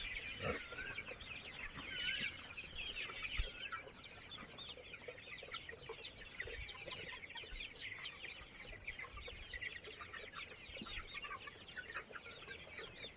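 Forty-day-old Sonali super hybrid chickens fill a farm shed with a continuous, faint chorus of overlapping clucks and chatter, and occasional sharper calls stand out.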